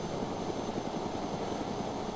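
A helicopter engine in DayZ drones steadily with a dense, pulsing rotor chop, loud and continuous with no break.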